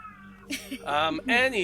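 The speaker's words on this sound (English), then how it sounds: "Sorry that my cat's meowing in the background." A house cat meows several times in rising, drawn-out calls, fairly close and clear, with a person's voice present in the background.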